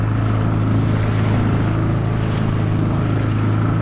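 An outboard motor on a small boat, a fairly new Tohatsu, drones steadily as it moves through a busy anchorage on the ARC 2022 rally start, a loud close engine hum with wind and water wash throughout.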